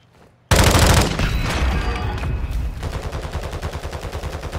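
Rapid automatic gunfire in the video game Call of Duty: Warzone bursts in loudly after a brief quiet moment, then continues as dense, sustained shooting with a steady rhythmic rattle of shots.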